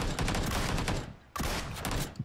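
Gunshots in a video game firefight, a loud, fast string of automatic bursts for about a second, a brief lull, then another rapid volley, close and dense, without speech.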